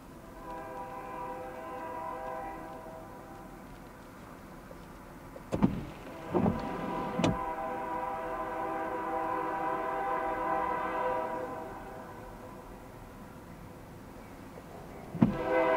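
A BNSF freight train rumbles steadily past at night, with a long, loud, sustained horn blast and a few sharp clanks and bangs from the cars over about sixteen seconds.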